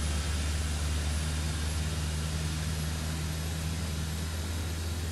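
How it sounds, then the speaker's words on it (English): Jet engines of a ToLiss A330-900 neo airliner in X-Plane 12, a loud steady roar with broad rushing noise and a low constant hum, unchanging throughout. "Those engine sounds are great."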